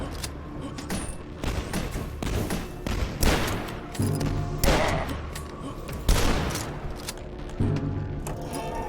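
Grenade explosions and rapid gunfire burst repeatedly in the video game Dusk during a grenade jump, loud and dense with heavy booming thuds recurring every second or so.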